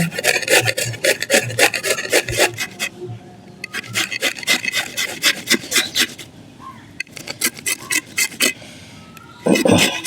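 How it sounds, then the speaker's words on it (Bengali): Raw mango being grated by hand makes repeated rasping scrapes in quick strokes, with short pauses between bursts and a voice speaking over parts of it. "এখন ঘষে দিয়ে ঘষা চলছে"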